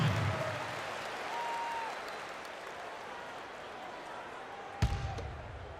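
Virtual arena crowd in an NBA 2K16 Cavaliers versus Bulls match, a steady roar of cheering and applause under a tonal arena cue, with a sharp thud near the end.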